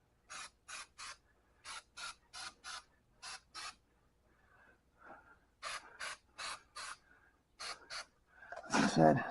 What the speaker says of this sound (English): spray the whole damn thing